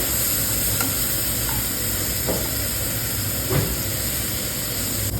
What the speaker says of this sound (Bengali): কাঁচা লঙ্কাকে একটু অল্প একদম তেলে ননস্টিক প্যানে ভেজে নিচ্ছি হালকা করে